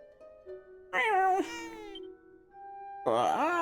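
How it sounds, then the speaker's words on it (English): A cat in the video game Dragon Quest VII meows twice, clear and close, with a quiet pause between the two cries over a soft sustained musical tone. "Pet the kitty."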